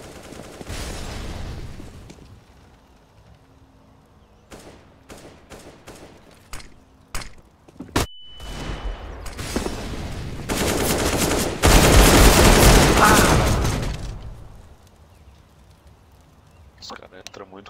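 Gunfire from players in an online video game match, with scattered single shots and short bursts, then dense sustained automatic fire in the middle, heard under voice talk.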